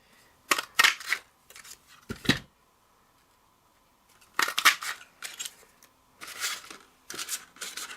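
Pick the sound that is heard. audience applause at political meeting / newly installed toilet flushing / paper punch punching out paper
paper punch punching out paper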